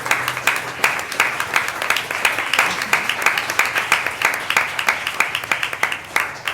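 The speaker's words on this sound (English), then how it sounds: "I want you to have a round of applause for your parents who took you to all those practices and games." Parents are applauded at a West Orange, New Jersey town council meeting, with a room of people clapping in a steady, rhythmic round that continues for several seconds.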